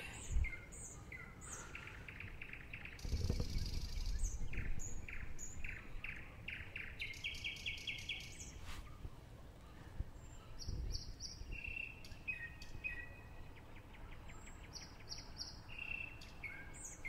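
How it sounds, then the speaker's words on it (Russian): Parrots and other birds in a botanical garden give repeated sharp chirps and whistled calls, some close and loud, over a faint insect buzz and soft ambient rustle, with no talking. "Это попугай, ебать."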